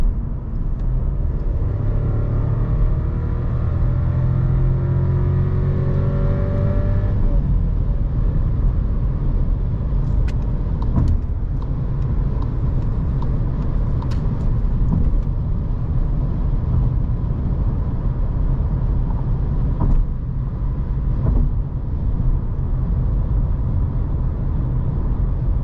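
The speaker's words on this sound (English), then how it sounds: "The kickdown is also quite fast." Volkswagen Polo AW 1.0 TSI with DSG gearbox, 95 hp, accelerating hard on kickdown; a steady loud engine and road drone with rising tonal sweeps early, then a constant rumble with a few faint clicks.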